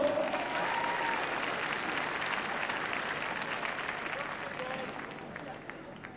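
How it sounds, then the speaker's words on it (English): Arena crowd applauding at a Crufts international dog slalom competition, a broad burst of clapping that starts full and slowly fades over several seconds, with a voice briefly audible. "So, Germany goes through. Give them a big round of applause."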